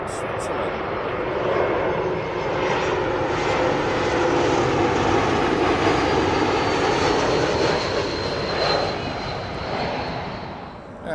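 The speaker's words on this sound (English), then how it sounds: "It's the Embraer 195 coming in from Zurich, Switzerland." A Helvetic Airways Embraer 195 arriving at Heathrow from Zurich gives a loud, sustained jet roar that swells and holds, then eases slightly toward the end.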